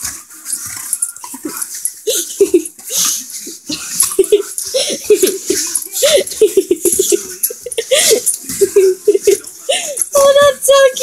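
Puppies playing and fighting, with yips, whimpers and small growling barks coming in quick irregular bursts close by, while people laugh and talk over them.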